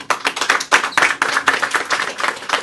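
An audience at a ceremony bursts into brisk, dense applause, many hands clapping close and loud in a steady patter without pause for a few seconds, with no one talking over it.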